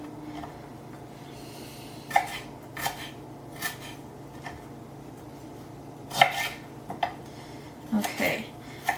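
A knife chops ginger on a cutting board, trimming off bad spots: scattered sharp taps, some doubled, spaced irregularly, fairly close and moderately loud over a quiet room.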